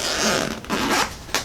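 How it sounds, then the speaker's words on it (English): A zipper on a guitar case is pulled open in a few quick, loud rasping strokes, close up and with no talk. "I would have liked to see if this zipper would have went a little farther back to make it easier for opening"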